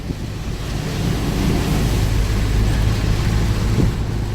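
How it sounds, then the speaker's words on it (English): Floodwater washes across a road on the way to Akaroa during August 2017 flooding, a loud continuous rushing roar with low rumble, heard from close by with some wind buffeting. "We got more water over the road."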